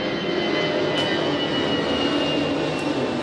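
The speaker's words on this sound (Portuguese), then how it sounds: "Mais um avião passando" A fixed-wing airplane passing overhead near Congonhas airport, a loud, steady broadband engine roar that fills the whole stretch without fading, with no talk over it.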